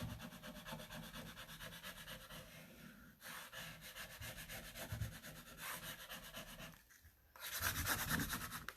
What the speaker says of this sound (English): I'm still going to take my paint tray though and rub on it.